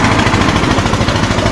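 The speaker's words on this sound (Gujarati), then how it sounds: "બરફ જો ચાલુ થઈ ગઈ છે આખી લાદી ઓલા મશીનમાં નાખી દઈએ પછી ભૂકો કરીને" A whole ice slab is being crushed in an ice-crushing machine that feeds crushed ice through a pipe to a large fishing boat's hold. The grinding is loud, continuous and rough, with a steady pulsing churn and no voices.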